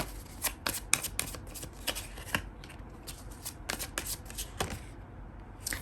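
Tarot cards are shuffled close up in repeated crisp riffling bursts, each a quick papery flutter with brief pauses between, during a love reading.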